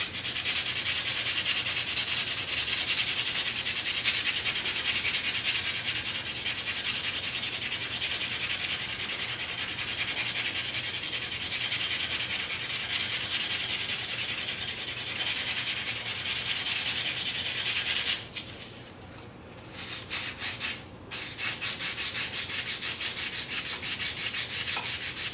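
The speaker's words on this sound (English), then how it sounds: "So I think we should probably sand this a little bit. Looks pretty good, but we'll go ahead and sand it." A powder-coated coin ring being sanded, a continuous close, gritty rubbing that runs steadily for most of the stretch, briefly pausing and changing near the end before resuming, with no talk.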